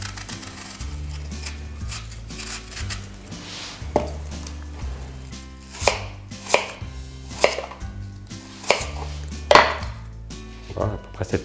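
A knife slices an apple into thin strips on a cutting board for a Normandy apple cake, giving a series of crisp, distinct chops that come faster and sharper toward the end, over low background music.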